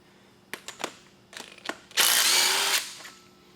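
A power tool spins out 10mm bolts holding the power steering pump on a 2004-2008 Ford F-150 5.4L V8, preceded by a few sharp clicks and taps, then a close two-second whir, no talking.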